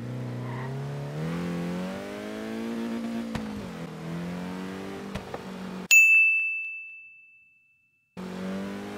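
Reliant Supervan in Forza Horizon Australia, a small engine droning and rising as the van drives, then cut off by a loud bright ding that rings out and fades before the engine returns.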